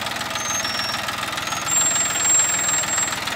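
A Massey Ferguson 241 DI tractor engine runs steadily close by on farmland, its low diesel rumble throbbing in an even, rapid knock that swells slightly midway, with no voices.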